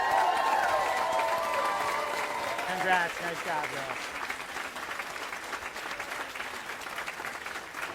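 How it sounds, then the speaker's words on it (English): Audience applause and light cheering at a women's sailing nationals awards ceremony, steady clapping from a crowd that eases off slightly while people nearby offer brief congratulations. "How about a round of applause?"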